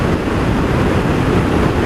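Strong wind roars and buffets the microphone in a constant, loud rush of noise with no pauses.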